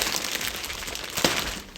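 Plastic wrap glued onto a shipping box crinkles and crackles during a tech unboxing, a steady close rustle with one sharper crack near the end.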